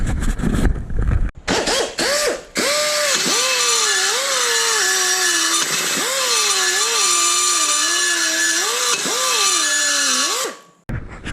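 A power saw whines through a metal pipe in long cuts, its pitch dipping and rising under load, with brief clattering handling noises before and after.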